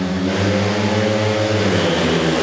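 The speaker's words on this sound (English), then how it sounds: "Revving the throttle to keep his bike running so nobody has to push it" A speedway motorcycle engine is held on the throttle to keep the bike running, giving a loud, steady, close-up mid-pitched drone with slight wavering throughout and no speech over it.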